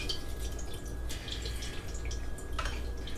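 Queso dip liquid drains through a colander into a bowl underneath, giving faint, irregular dripping and trickling with occasional small splashes and no voices.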